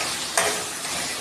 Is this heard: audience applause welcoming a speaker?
no